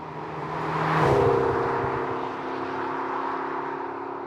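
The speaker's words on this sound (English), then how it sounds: "the exhaust note, it's better. It's quite raucous, quite deep" A 2020 McLaren GT on the move gives a deep, raucous exhaust note, a steady low drone that swells loudly near the start and then eases back to a constant engine hum.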